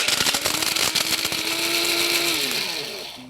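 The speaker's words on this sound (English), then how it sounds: "I'm going to blitz it up in a coffee grinder until it's sort of fluffy and flaky" A coffee grinder blitzes dried shrimp into fluffy flakes with a loud, high motor whine and rattling grind that holds steady, then dips in pitch as it winds down.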